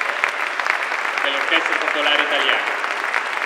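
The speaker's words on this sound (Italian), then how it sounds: "chiedo a tutti un applauso di benvenuto" Audience applause fills a church as musicians and a choir are welcomed for a benefit concert, steady dense clapping throughout while someone speaks over it through a PA.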